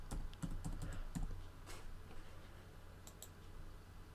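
Login credentials typed on a computer keyboard, a quick burst of close, faint key clicks at the start, then a few scattered taps against a low background hum.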